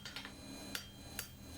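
A small hammer taps a hand-forged iron strap hinge, two sharp metallic strikes about half a second apart over faint background hiss, with lighter ticks before them.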